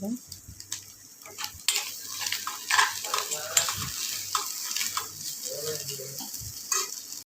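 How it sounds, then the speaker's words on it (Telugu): Egg fry is stirred and turned in a pan in an Andhra-style home kitchen: continuous close frying sizzle with repeated scraping and clinking of a spoon against the pan. "ఎగ్ వేసుకొని కలిపిదాం తిప్పుదాం ఎగ్ ఫ్రై ప్రిపేర్ అయింది"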